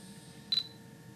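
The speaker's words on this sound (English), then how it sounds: "if I press the shutter release" A Fujifilm X10 compact camera's shutter release gives a single quick, faint click with a thin high ring over a quiet room hum.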